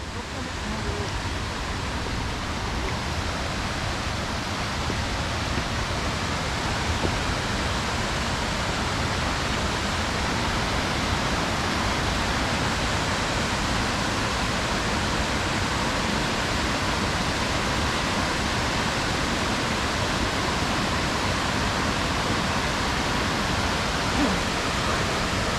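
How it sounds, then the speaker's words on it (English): Steady, dense roar of water pouring over a dam spillway on the Klamath River, a continuous broadband rush filling the whole clip at an even loudness with no breaks. "Spillway."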